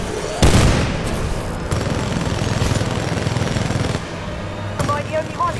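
Gunfire during a boss fight in Titanfall 2: a heavy opening blast followed by sustained rattling automatic fire, a second burst later, and bright electronic chirps near the end under a continuous combat din.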